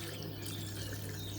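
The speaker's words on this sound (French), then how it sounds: "Mon argile, alors je verse déjà un petit peu d'eau." Water is poured onto clay in a garden bowl to make a root-coating slurry for leek seedlings, a faint, steady trickling wash over a low background hum.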